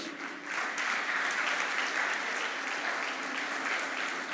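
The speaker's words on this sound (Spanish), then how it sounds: "dele un fuerte aplauso a Dios por la vida de nuestro pastor" A church congregation gives a loud round of applause to God for their pastor's life, a dense, steady wash of clapping that swells after a brief start and holds evenly throughout.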